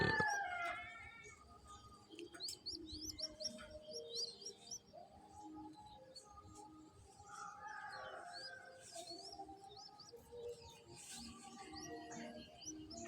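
Local zebra doves, a small family of adults and chicks, give soft, scattered chirps and calls in a quiet setting, with overlapping short tweets and some lower coo-like notes continuing throughout and no voices.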